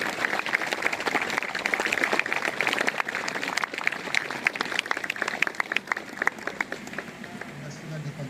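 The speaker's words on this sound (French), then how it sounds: "Je pense qu'on peut les applaudir." Audience applause at a November 11 Armistice remembrance ceremony: steady, dense clapping from a crowd that continues across the whole stretch, with some murmuring voices mixed in.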